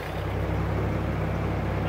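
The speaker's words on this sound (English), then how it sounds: "See if it's going to start up easy for us." Old tractor engine, left sitting overnight, running with a steady low rumbling drone, close and loud throughout.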